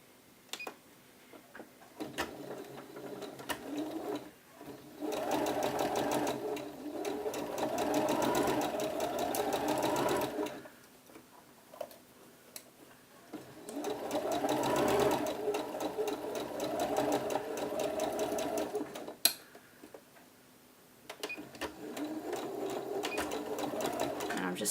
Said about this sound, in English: I'm just stay stitching at the beginning and end of this stitch